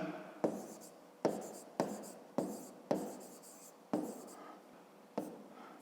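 Chalk or marker strokes on a classroom board during a fifth-grade math lesson: seven sharp, separate writing bursts, each starting with a crisp attack and trailing off. They are close and fairly quiet, with no talk.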